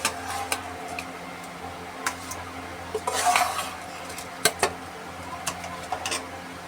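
A metal ladle scoops rice out of a pot of very hot water, giving scattered clinks and scrapes against the pot over a soft background hiss, with a busier stretch of clatter partway through.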